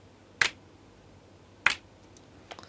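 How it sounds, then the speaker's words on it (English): Snap and clap samples pitched up ten semitones in Logic Pro sound as two sharp, bright hits about a second apart, followed by a faint tail of small clicks. "Slightly between sort of like finger snaps and claps."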